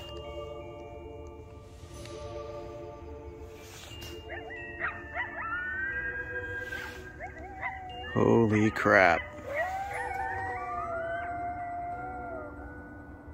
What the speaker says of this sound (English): There's a coyote right in front of me. So close.